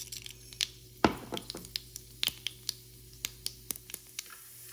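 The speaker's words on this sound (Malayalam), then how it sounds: "ഇതിലേക്ക് ഇനി കടുക് പൊട്ടിച്ച് ചേർക്കാം." Mustard seeds crackle and pop in hot coconut oil in a pan, a run of sharp, irregular snaps, close and fairly faint, with no talk.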